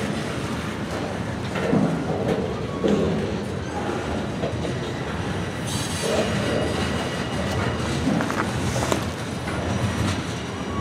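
A long CSX freight train, Q410 led by locomotive 5426, rolls past with flat cars carrying rebar, a continuous loud rumble with rhythmic wheel clicks and brief squeals, heard alone without talk.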